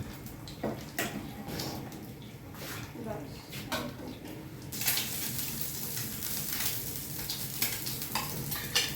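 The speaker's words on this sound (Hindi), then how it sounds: "मैं तुम्हारे लिए ना अंडे फ्राई कर लेती हूँ" Eggs fry in a pan with a steady sizzle, joined by stirring and clattering kitchen sounds and some running water, while someone talks over it.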